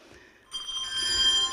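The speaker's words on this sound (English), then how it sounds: "We can shake the bell." A handbell is shaken during a church bell concert, starting abruptly and ringing as a bright, sustained, shimmering tone that holds steady for about a second, close and clear.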